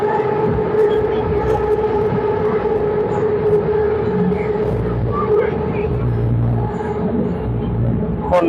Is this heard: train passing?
yes